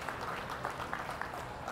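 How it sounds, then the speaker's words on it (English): Audience clapping at a 4-H junior dairy show at a county fair, a dense, steady patter of many hands held at an even level for the short span, with no one talking over it. "Let's give these senior high individuals a round of applause for their hard work."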